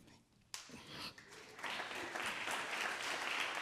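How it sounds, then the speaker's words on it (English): Applause rises at a grassroots committee meeting as a new member is welcomed, starting with a few claps and building into steady, moderately loud clapping from the room. "That's more applause than I got."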